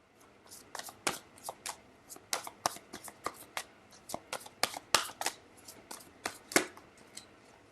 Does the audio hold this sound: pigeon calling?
no